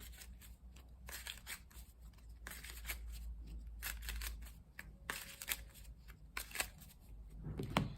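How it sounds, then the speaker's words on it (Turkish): Tarot and playing cards shuffled by hand in a steady run of crisp riffling and flicking bursts, close and fairly quiet, with no voices. "Hemen sizleri bekletmeden kartlarımı karıştırıyorum"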